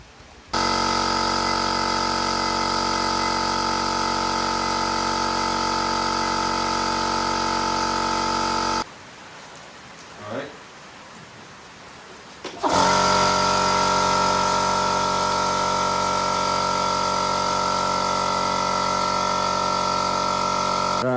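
A pump or compressor inflates the tyres of a 1964 Massey Ferguson MF 1200 tractor on a farm with a loud, steady electric drone that cuts out for about four seconds, then resumes slightly louder.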